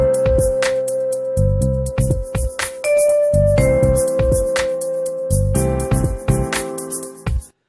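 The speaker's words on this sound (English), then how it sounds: "So that's the sound of a tonic sixth chord with the C in the melody." Piano playing a C6 tonic sixth chord with C on top in the melody, a series of struck notes and chords in a lively rhythm, close and full, with no talk.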